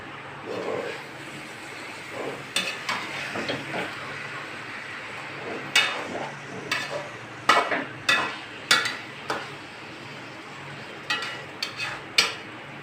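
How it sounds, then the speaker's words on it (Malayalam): A spoon stirs chicken chukka in a wok, scraping in sharp, irregular strokes that come in quick clusters over a soft, steady sizzle close by. "എനിക്ക് ചീനച്ചട്ടിയിലുണ്ടാക്കണം ഇളക്കാനാണ് ഇഷ്ടം"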